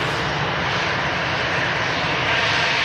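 A Wellington-bound or Welling airliner flying at Manchester Airport, arriving from Barcelona, gives a steady, loud engine roar that fills the whole stretch without a break.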